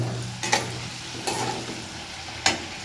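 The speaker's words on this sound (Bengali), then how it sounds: "তার আগে আলুটা ভেজে নিলাম ভালো করে আলুটা লাল করে ভেজে নেব।" Potatoes fry in a pan until browned, a low steady sizzle broken by three sharp scraping stirs spaced about a second apart, close and without voices.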